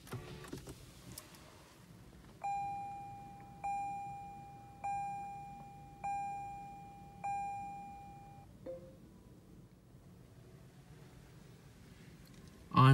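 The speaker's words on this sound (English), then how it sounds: "Let's go ahead and start the vehicle." A 2019 Lexus RC350 F Sport plays its start-up chime, a series of five evenly spaced electronic tones ringing clearly inside the cabin over a low background hum.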